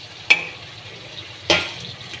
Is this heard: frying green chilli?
yes